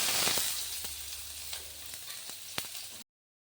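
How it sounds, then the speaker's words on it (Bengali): Chopped onion hisses loudly as it hits hot mustard oil in a kadai on a gas flame. A bright, close sizzle fades slightly over time, broken by a few sharp spatula clicks against the pan. "এবার আমি তাতে পেঁয়াজ কুচি দিয়ে দিচ্ছি"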